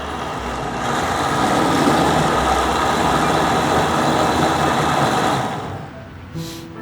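A blender puréeing shrimp bisque, its motor whirring loud and steady as speed rises, then dropping off near the end with a brief clack.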